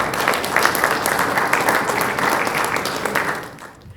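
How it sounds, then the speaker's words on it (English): Audience applause welcoming panelists at an investment panel discussion, a dense sustained wash of clapping from a large crowd that fades toward the end. "Can we have a big round of applause?"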